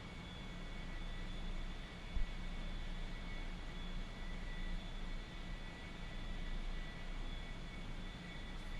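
Small airplane engine droning steadily during a banking turn, a loud constant propeller and engine roar with a faint whine, holding even for several seconds with no talk.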